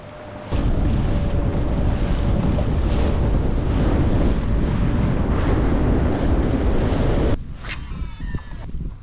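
Steady, loud wind buffets the microphone while kayaking on open water, a constant roaring rush lasting most of the clip before briefly easing near the end, with no voices.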